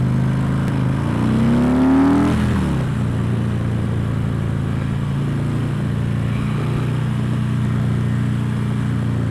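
A Harley-Davidson Electra Glide touring motorcycle engine rumbles steadily and loudly, with a brief rise and fall in pitch early on before settling into a deep, continuous drone.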